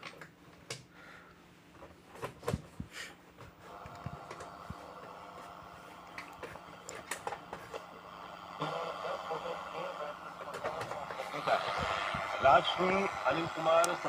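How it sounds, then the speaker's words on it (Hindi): FM radio on a Philips RR 400 radio-cassette recorder plays faintly with voices, interrupted by clicks and knocks from handling and tuning, and grows louder and hissier toward the end. "ये पकड़ रहा है FM इसमें"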